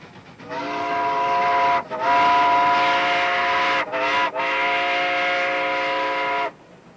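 An Alco sugar mill railway locomotive horn blows in long sustained blasts with brief breaks, loud and steady against a quiet background, in Santa Clara province, Cuba.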